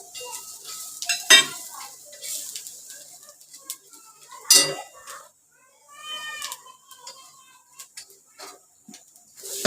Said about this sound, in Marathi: आता मी बडीशेप टाकते